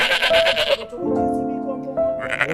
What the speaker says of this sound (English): Look at these goats.